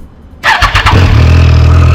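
A 2014 Triumph Street Triple 675R motorcycle engine cranks briefly with a few rapid sputters, then catches and settles into a loud, steady idle rumble close by.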